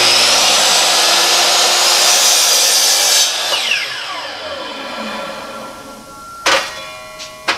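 Miter or radial arm saw squaring the end of a wood board: a loud steady whine that stops around three seconds in and spins down, followed by a couple of sharp knocks and clatters.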